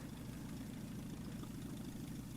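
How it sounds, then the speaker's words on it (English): A tractor engine idles in Farming Simulator 19, a steady, dense low rumble holding constant throughout with no talk over it. "we will come here with our front loader"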